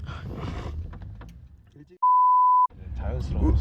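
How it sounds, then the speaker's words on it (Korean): An alarm gives one sharp electronic beep, a steady pure tone lasting over half a second, set between stretches of people chatting. "알람이 왜 지금 와?"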